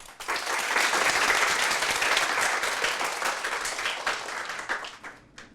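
A studio audience at a Korean Christian talk concert bursts into applause for a guest professor, full and even clapping that swells early, then thins and dies away near the end.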